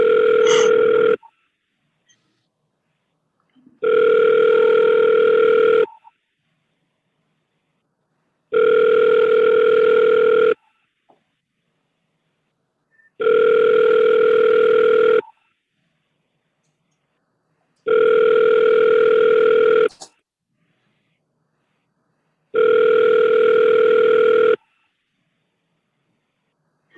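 An outgoing phone call's ringback tone repeats six times, each roughly two-second burst separated by about three seconds of silence, loud and clean with no talk.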